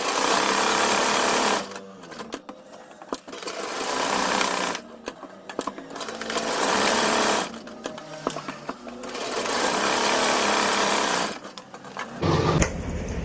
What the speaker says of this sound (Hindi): अब हम इसे स्टिच कर लेते हैं।